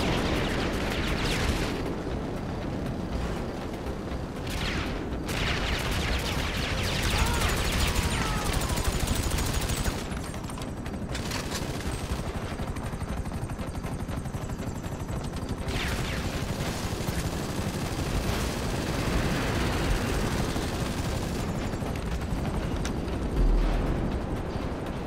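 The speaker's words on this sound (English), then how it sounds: "We've got an airstrike, so we don't even really need to worry about that guy." Airstrike explosions and rapid gunfire in Grand Theft Auto V on Xbox One, a dense, continuous barrage of blasts and shots with heavy rumbling booms and crackling bursts throughout.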